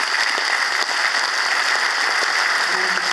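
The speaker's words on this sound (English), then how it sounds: "I think that all of you here now, together with all of those who've been granted citizenship since that date, deserve a big round of applause." A hall full of new citizens at an Irish citizenship ceremony in Dublin applauds in a loud, dense and continuous round of clapping, close-up and unbroken throughout.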